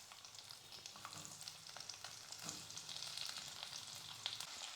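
Chopped onions dropped into hot oil with fennel seeds for Chettinad onion kose, giving a steady close sizzle and crackle with a few soft stirring scrapes.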